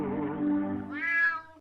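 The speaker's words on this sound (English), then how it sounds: "The cat at the end. I love the cat." A cat meows twice in quick succession, loud and close, a drawn-out low note rising into a higher, brighter second call.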